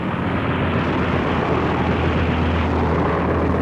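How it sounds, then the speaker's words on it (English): World War II American planes attack a Japanese fleet in the Sibuyan Sea through heavy anti-aircraft fire: a loud, dense, unbroken engine roar and rumble that fills the whole stretch without pause. "As they attacked the massive Japanese fleet in the Sibuyan Sea, the American planes met a wall of anti-aircraft fire."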